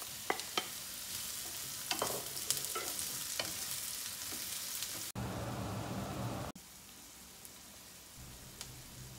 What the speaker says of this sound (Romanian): Ceapa împreună cu usturoiul trebuie călite aproximativ 2-3 minute până devin translucide